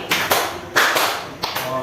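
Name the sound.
class clapping four times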